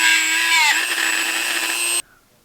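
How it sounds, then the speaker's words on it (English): Power drill boring out the middle of an RC crawler gearbox part, a loud close whine with a dipping pitch that runs steadily and then cuts off abruptly, followed by near silence. "I'm going to drill out this middle portion next."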